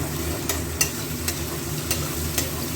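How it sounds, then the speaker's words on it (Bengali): Garlic, ginger and green chilli paste fry in a pan for bhindi masala, giving a steady close sizzle punctuated by a few light spatula taps. "এবার রসুন আদাটা একটু ভাজা ভাজা হোক।"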